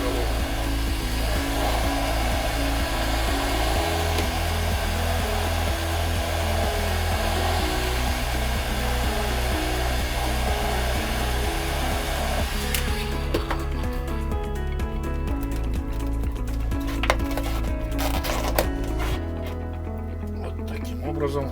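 A heat gun blows a steady, loud, droning hiss while warming a plastic pipe to soften it for a snug fit on a workshop vacuum build, with a rhythmic low pulsing underneath and talk running over it.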